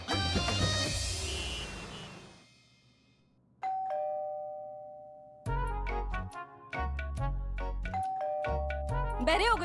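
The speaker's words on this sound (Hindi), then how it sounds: "कब से घंटी बज रही है" A two-tone ding-dong doorbell rings several times in an indoor home setting, loud and clear, following a burst of dramatic music and overlapping with more music.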